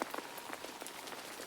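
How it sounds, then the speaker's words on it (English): Gentle rain falls on a forest path, a soft, steady patter of scattered drops, faint and close, without any voices. "The rain was gently falling"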